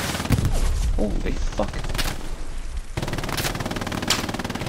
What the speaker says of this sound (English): Oh, they're shooting me.